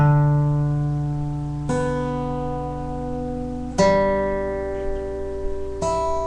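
Acoustic guitar fingerpicking, with thumb and fingers plucking strings in a slow pattern of sustained, ringing notes and a few fresh attacks every couple of seconds, close and clear with no talking.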